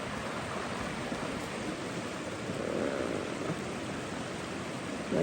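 River water in a creek rushing over rocks, a steady broadband hiss and churn that holds at a constant level throughout, with no voices.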